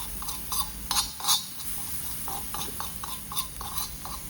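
Spice masala stirring and roasting in a pan: a steady run of light scraping strokes and clinks from the spoon against the pan about every half second, over a faint sizzle, with no voices.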